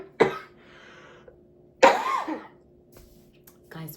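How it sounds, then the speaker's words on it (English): A person recovering from gallbladder removal surgery coughs in two separate bursts, close and fairly loud, each a short harsh hack with a throaty tail, separated by quiet room tone. "Guys, please forgive all the coughing."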